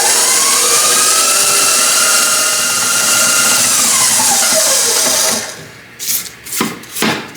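A stand mixer beats molasses cookie dough, giving a loud, steady motor whir that slowly drops in pitch and then cuts off, leaving a few thumps and knocks.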